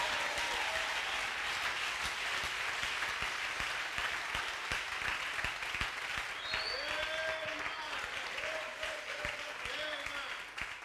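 A church congregation claps and cheers to acclaim the Lord, sustained dense applause at moderate distance with whoops and shouts rising over it in the later seconds.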